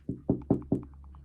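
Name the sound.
knocking on a door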